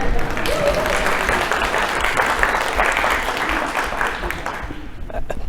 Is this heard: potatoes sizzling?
no